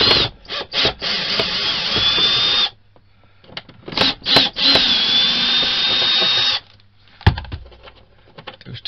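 Power screwdriver backing screws out of an RV power converter in several close, loud whirring bursts of a few seconds each, separated by brief pauses and clicks.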